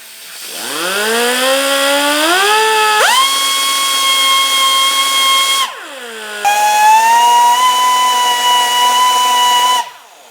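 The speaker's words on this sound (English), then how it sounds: "Nothing like a die grinder." A die grinder cleans a burr off a part during assembly of a Farmertec MS660-clone chainsaw. The whine spins up loud and high, holds, winds down, then revs up for a second steady run before cutting off.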